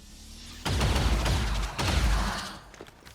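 Soldiers fire a burst of gunfire at a sectoid in XCOM 2, two loud, dense volleys of rapid shots in sequence, the second trailing off into a fading echo.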